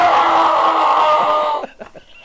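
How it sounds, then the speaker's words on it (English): Several people scream together in one loud, sustained burst during a scary game session, then trail off into scattered shorter shouts and voices. "Everyone let's scream at the same time."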